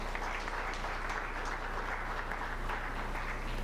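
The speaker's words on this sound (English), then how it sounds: "one more big round of applause for our panel" Faint, steady applause from a meeting audience for a panel, a soft continuous wash of clapping heard from a distance with a low background hum.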